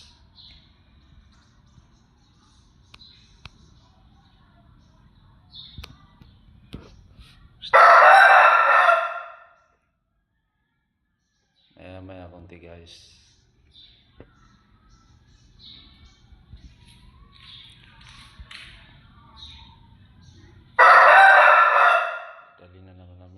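A fighting rooster gives two loud, close crows about thirteen seconds apart, with quiet clucks and chirps between them and a person speaking briefly.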